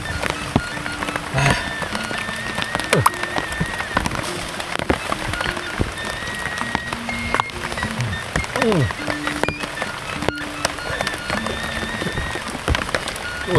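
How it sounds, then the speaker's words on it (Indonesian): Heavy rain pours down steadily in a continuous dense hiss and patter, with faint voices and scattered tonal sounds beneath it throughout. "Hujan makin gede guys"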